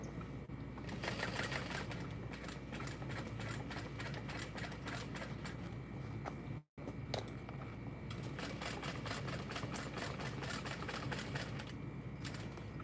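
A sewing machine runs close up at a stitch length of 4, attaching the bottom panel of a bucket bag beside the stabilizer, with a steady rapid whir broken by one brief stop midway.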